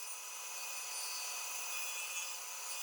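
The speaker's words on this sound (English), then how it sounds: "over to the bandsaw to cut these out" A bandsaw cuts through scrap wood with a steady, close, bright hissing whine that holds unbroken for a few seconds, with no voices.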